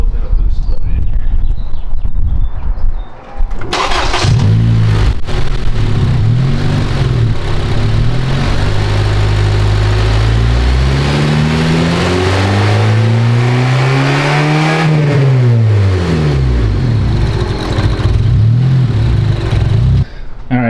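Turbocharged Honda Civic Si, a widebody car fitted with a Makspeed turbo kit, revving hard. The engine note climbs and falls through several loud, sustained revs that stay close and fill the whole stretch.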